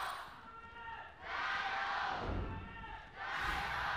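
A large arena crowd roars and cheers at a League of Legends esports match between FunPlus Phoenix and Team WE in the LPL Spring Split, with two loud swells of cheering separated by a brief lull.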